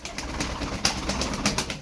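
Several pigeons, about eleven in a loft, make low cooing and shuffling noises close by, a brief continuous murmur with occasional sharper flutters.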